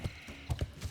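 Horse hooves clip-clop in World of Warcraft Classic, in the Feralas zone. About five clopping hoofbeats fall in an uneven gait, close and clear, with no talk.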